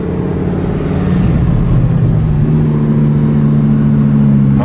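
A 1000HP twin-turbo Lamborghini downshifts and revs on the road, a loud, close engine note with rising and falling pitch sweeps under steady drivetrain roar, heard continuously with no talk.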